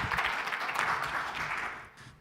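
An audience at a panel on a teacher retirement system crisis applauds a speaker with a brief, steady wash of clapping that fades slightly toward the end.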